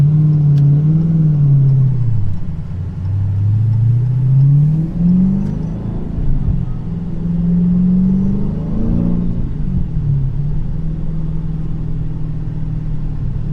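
A supercharged 426 Whipple Hemi engine idles loudly and unevenly up close, its low rumble sagging and surging as the revs drop and recover while it struggles for fuel and loses power.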